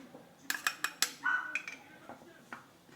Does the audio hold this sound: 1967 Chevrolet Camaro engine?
no